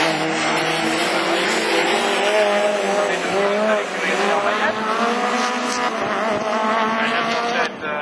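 Division 4 rallycross cars roar off the start at the 2013 French championship round in Lessay, with engines and tyres howling loudly throughout as a commentator talks over them.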